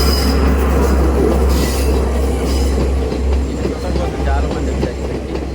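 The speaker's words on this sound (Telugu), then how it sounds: "ఈ 9 ఆర్చ్ బ్రిడ్జ్ మీద ఈ టైంలో ఈ ట్రైన్ రావడం నిజంగా" A train rolls across the Nine Arch Bridge in Ella, Sri Lanka, its heavy low rumble and wheel squeal filling the air, with crowd noise and voices faintly underneath.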